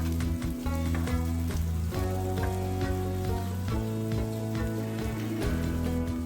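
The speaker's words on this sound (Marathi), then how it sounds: "त्यात आता बारीक चिरलेल्या 3-4 हिरव्या मिरच्या व 1 शिमला मिरची घातली आहे व आता ते थोडे परतून घेतले।" Finely chopped green chillies and capsicum sautéing in hot oil in a pan, a continuous close sizzle and crackle with scattered pops, plus a low steady hum running underneath the whole time.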